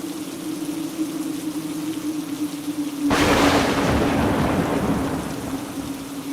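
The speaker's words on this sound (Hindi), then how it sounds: "कड़कती बिजली के साथ साथ मूसलाधार बारिश भी शुरू हो गई।" A sudden, loud thunderclap breaks over a steady low hum, followed by heavy, continuous downpour rain that roars on for several seconds.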